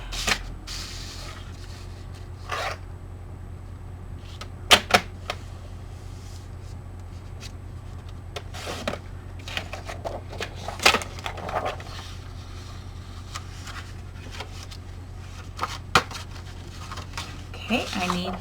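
Scissors snip through paper for a craft journal card, leaving scattered crisp cuts and rustles over a steady low hum, with no talking.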